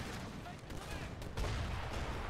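Artillery and cannon fire from a 2v2 treaty match in Age of Empires III: Definitive Edition, with a rumbling barrage of repeated booms and a heavier blast midway, partly under speech.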